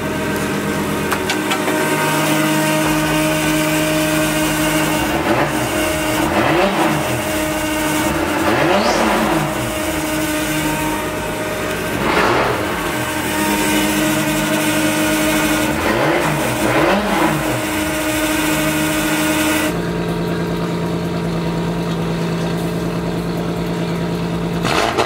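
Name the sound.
car engine starting and running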